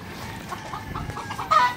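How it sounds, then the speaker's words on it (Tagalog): Soft, rapid gobbling and clucking calls from a nearby turkey on a farm repeat through the moment, ending in a slightly louder burst. "Ito yung pabo natin guys."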